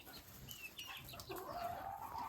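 Young chicks and grown hens in a backyard poultry pen cluck and peep, with high thin chick calls and a rising drawn-out note near the end, fairly faint and close, no talking.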